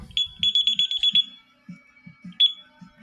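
ADT Impassa alarm panel beeping while being armed in Away mode: a rapid run of short, sharp high-pitched beeps, then a pause and one more beep, loud and close, with soft low knocks beneath.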